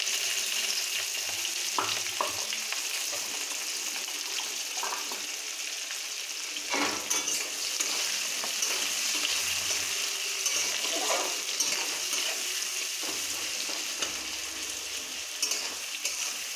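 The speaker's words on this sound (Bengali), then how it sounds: "এরপরে আমি কাটা পেঁয়াজগুলো এর মধ্যে ভাজা হওয়ার জন্য ছেড়ে দিচ্ছি।" Chopped onions frying in a pan, a steady close sizzle running throughout with occasional light clinks and stirring scrapes, no talking.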